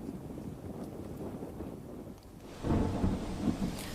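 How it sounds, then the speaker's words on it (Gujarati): Storm with heavy wind and torrential rain in Dang, Gujarat, a dense, steady roar of rain and gusting wind that swells louder partway through, with low rumbling underneath. "ડાંગના આ દ્રશ્યો છે કે જ્યાં ભારે પવન અને ધોધમાર વરસાદની સ્થિતિની વચ્ચે નુકસાન થયું છે"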